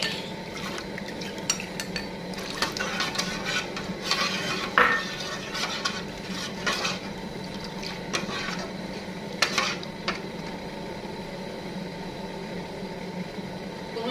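A spoon stirs curry paste into water in a cooking pot while making Thai sour curry with snapper and coconut shoots, giving a steady, continuous scraping and swishing punctuated by occasional sharper clinks against the pot, with no talking.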